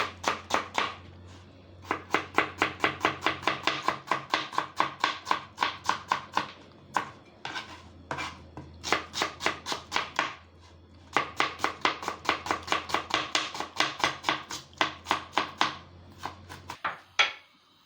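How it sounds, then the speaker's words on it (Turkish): Onions are chopped with a knife for a Turkish minced-meat, potato and green bean dish, in steady rapid bursts of close, crisp blade taps on a board, with short pauses between runs and a low hum underneath. "Arkadaşlarım önce soğanları doğruyoruz."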